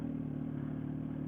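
Yamaha R1 sportbike engine running steadily up close as it pulls away in first gear, a constant mid-pitched drone with slight clatter and no voices.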